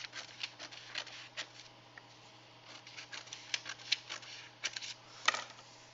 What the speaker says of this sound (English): you're just going to cut the top flap on the dashed line